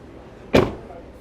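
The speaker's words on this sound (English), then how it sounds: "Let's shut this door." A single solid thud as the rear door of a Ford EcoSport S compact SUV is pushed shut, close and brief against a quiet background.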